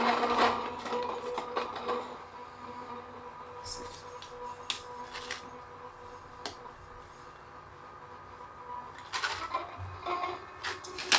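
An electric coffee grinder struggles with wet coffee beans being pushed in by a chopstick, giving a steady, moderately loud whirring grind broken by scraping, rattling bursts.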